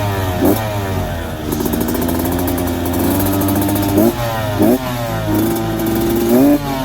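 A 2023 Yamaha YZ125X two-stroke motorcycle engine, loud and close, idling with a steady buzz while sharp throttle blips rev it up several times, pitch climbing quickly and falling back.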